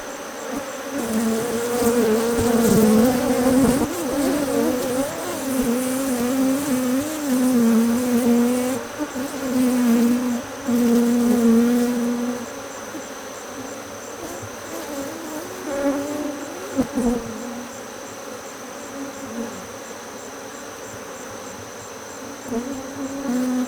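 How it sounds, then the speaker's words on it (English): Honeybees swarm loudly around an opened Apimaye hive during a brood inspection, a dense steady buzz with individual bees droning close by, easing somewhat in the second half. "A lot of bees."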